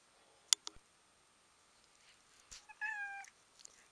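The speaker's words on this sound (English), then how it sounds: "that was my cat, my wonderful baby kitty" A pet cat gives a short, faint meow in a quiet indoor room, following a few sharp clicks and taps.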